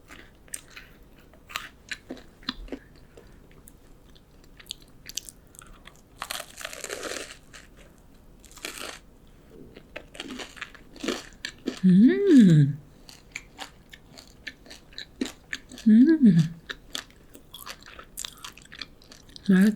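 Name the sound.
chewing a crunchy financier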